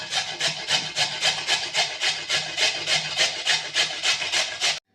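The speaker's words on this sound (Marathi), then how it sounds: "सगळ्या हळदीचे आपण साल काढून घेतले तर आता आपण त्याला किसून घेणार आहे" Peeled raw turmeric root grated by hand, a steady rhythmic rasping with about three strokes per second, close and clear with no talking.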